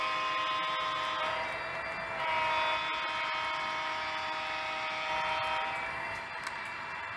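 A passing train seen from the trackside gives a steady, sustained metallic rumble and whine that holds for several seconds at moderate distance, swelling slightly midway, with no talking.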